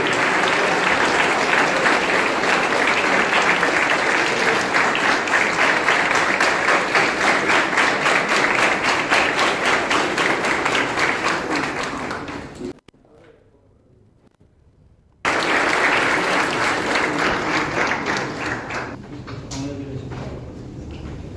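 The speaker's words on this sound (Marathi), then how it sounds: "जोरदार टाळ्या झाल्या पाहिजे या ग्रुपसाठी" An audience bursts into loud, sustained applause for a student team presenting at a Java project competition, clapping dense and continuous, breaking off abruptly into near silence, then resuming strongly before tapering.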